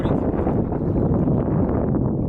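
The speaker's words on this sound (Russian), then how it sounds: "потому что порывы ветра адские" Strong gusts of wind roar against the microphone on an Arctic sea kayaking trip in the Kandalaksha nature reserve, a loud, continuous rumbling buffet with surging pulses and no pause throughout.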